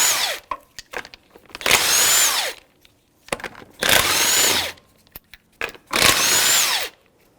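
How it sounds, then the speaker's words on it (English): A power tool spins off 19mm lug nuts from a rear wheel of a 1997-2006 Jeep Wrangler, three loud close bursts of whirring with quieter clicks and handling noises between them, no speech. "Remove the tire. These lug nuts are 19mm socket."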